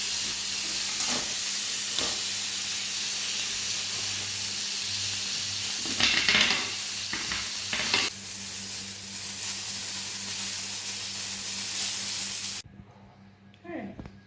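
Steak frying in butter and oil in a pan gives a loud, steady, close sizzle with a few sharper surges midway, then falls away to near quiet at the end.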